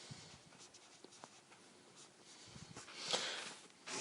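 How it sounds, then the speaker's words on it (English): Marker squeaking and scratching across a board while a parabola is labeled during a math lesson on quadratic graphs, with short faint strokes and one sharper squeak near the end, alone without talk. "Let's write on here, parabola."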